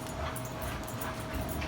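Remington, a very hyper dog, whimpers and yips in short, repeated high-pitched bursts close by, with a constant background hiss underneath.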